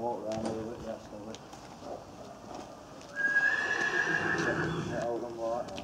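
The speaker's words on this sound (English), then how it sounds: "He's such a loud horse, isn't he?" A Shire horse whinnies loudly and close by while its hooves clop on hard ground, with people talking quietly around it as it is readied for a walk.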